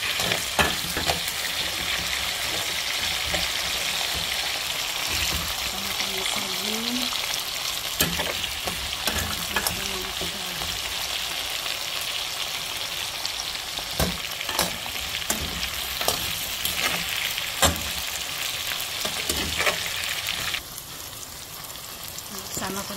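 Steady crackling sizzle of potatoes frying in hot oil in a pan, continuous and close, with occasional sharp clinks and stirring sounds throughout.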